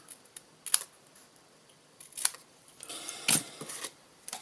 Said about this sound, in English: I am then going to take my snips and cut the words